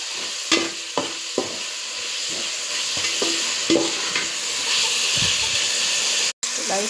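Onions and tomatoes sauté in a pan with a continuous hiss and sizzle, punctuated by repeated clinks and scrapes of a spoon against the pan and a brief cut near the end.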